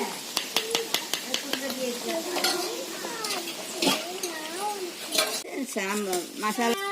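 Cooked rice mixed with sambar powder, turmeric and salt is stirred in a pot, with repeated close scraping and clinks of a spoon against metal over a light sizzle, while voices talk over it.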